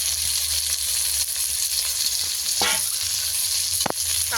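Chicken skin sizzles steadily in a pan with turmeric and a ground paste of coriander, cumin and black pepper, loud and close, with two sharp spatula scrapes near the end.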